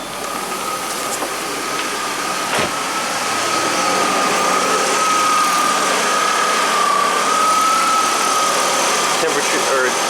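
A 1991 Audi 200 Quattro engine idles steadily with its A/C compressor running, a constant hum under a thin, slightly wavering whine with a couple of brief knocks.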